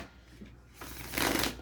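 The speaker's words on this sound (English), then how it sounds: "I'm going to shuffle one more time." Tarot cards shuffled by hand in a quick riffling burst that swells louder toward the end, close and alone with no talk.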